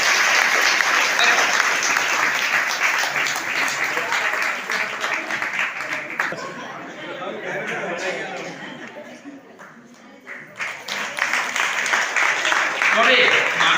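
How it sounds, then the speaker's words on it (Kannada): An audience at a felicitation ceremony gives loud, sustained applause. The dense clapping dips briefly in the middle and then swells again, with scattered chuckles and murmurs mixed in. "ಅವ್ರಿಗೆ ಜೋರಾಗಿ ಚಪ್ಪಾಳೆ ಮಾಡ್ತಾರೆ."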